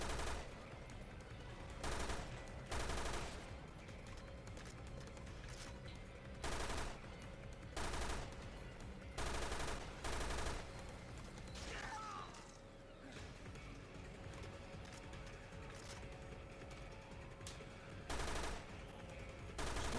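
Gunfire from a weapon in Resident Evil Revelations 2 raid mode, loud bursts of shots recurring in irregular clusters over a steady game background hum.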